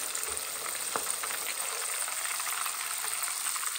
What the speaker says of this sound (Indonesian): Jadi aku tambahin daun bawang. Nah, terus digoreng seperti ini.